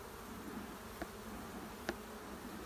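Honey bees swarm around an opened hive during a brood box inspection, giving a steady, dense, close buzz throughout with two faint clicks and no talking.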